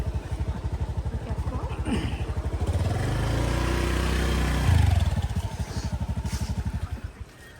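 Motorcycle riding along a road in Bali, its engine thumping in a steady rapid rhythm close by, swelling briefly as it revs and then settling back, with wind noise and no clear talk.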